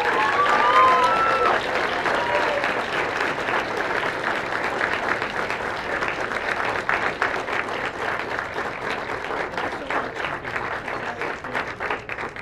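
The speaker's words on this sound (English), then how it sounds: "Please welcome, big round of applause for Mark Lopez." An audience at an awards dinner applauds for about twelve seconds, dense steady clapping from a large crowd that stays loud, then thins slightly toward the end, with no one talking over it.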